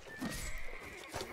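In a medieval siege video game, a horse whinnies at a low level with a hint of hoofbeats, set against a busy battle soundscape.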